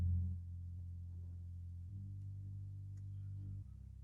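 Sustained low bass notes from a backing track play alone, a few long held pitches changing every couple of seconds, steady and fairly quiet with nothing else over them.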